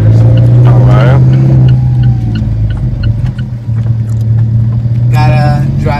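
An Alfa Romeo 4C sports car being driven in manual mode with paddle shifters, its engine a steady, loud low drone throughout, with a voice faintly audible over it at moments.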